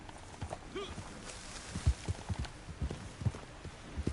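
Horse hooves clip-clopping in the video game Red Dead Redemption 2, a soft, irregular walking rhythm of low thuds, fairly faint, with a brief voice-like sound early on.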